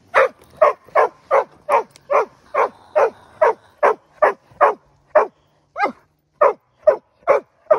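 A hunting dog barks repeatedly during a hunt in an even, rapid series of about seventeen sharp barks, close and fairly loud, with no voices.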